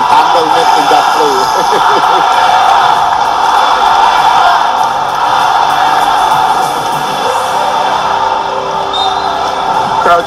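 Basketball arena crowd cheering for Calvin Abueva, a sustained loud roar of voices with whoops and shouts, with a commentator talking over it.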